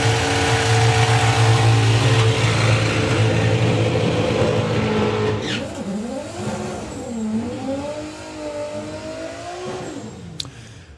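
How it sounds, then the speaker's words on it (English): A Camaro drag car at a UK doorslammer drag racing event roars at full throttle down the strip, loud and sustained, then the engine note drops into falling and rising revs as it shifts and lifts off. "Ian Brown is there with the Camaro in 760."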